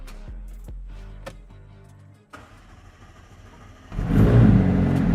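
A 2019 McLaren Senna MSO starts up: a starter whirr and quiet mechanical clicks give way to the engine catching and rising into a loud, rough close-up roar at the end, with no talking.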